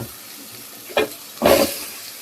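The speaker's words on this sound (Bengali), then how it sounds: "এই যে মশলা কষাই নেওয়া হইতেছে তরকারির জন্য" Spices sauté in a hot pan for a vegetable curry, with two brief bursts of sizzling, the second louder and longer, over a quiet kitchen background.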